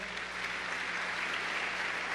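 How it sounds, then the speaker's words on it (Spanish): Church congregation claps in praise to the Lord during a sermon, a sustained, uniform roar of many hands applauding at moderate volume with a faint low hum underneath. "¿Le puede dar un aplauso al Señor?"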